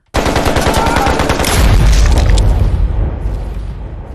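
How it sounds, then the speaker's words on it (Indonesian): Sustained gunfire from a film shootout scene in a sniper action movie, a loud dense burst of rapid automatic shots rolling into booming reverberation that slowly fades, with no talk over it. "Kini Xingli pun harus beradu tembak dengan Victor"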